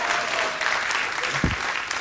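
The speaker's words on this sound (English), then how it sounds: "I think that's an appropriate level of applause." Late-night talk show studio audience applauding, a dense, loud wash of clapping that carries on steadily, with a brief low thump partway through.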